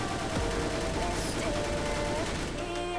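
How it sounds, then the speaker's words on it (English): Gunfire from the Roblox game Mad City: a rapid string of shots aimed at an opponent's head crackles continuously over a busy game soundtrack, loud and close throughout. "I'm going to start firing"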